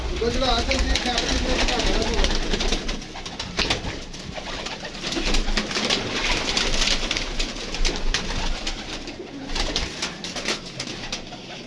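Pigeons coo and flutter close by, with people talking and scattered noise over the cooing throughout.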